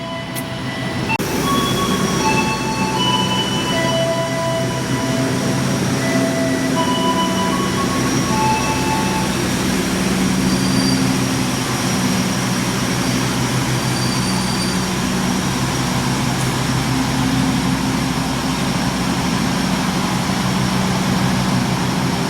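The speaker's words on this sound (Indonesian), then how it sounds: "kereta api Bima persiapan masuk di jalur 5 stasiun Yogyakarta Tugu" The Argo Bima train rumbles steadily as it pulls into platform 5 at Yogyakarta Tugu station, with a constant low roar and metallic squeals and screeches of wheels and brakes throughout.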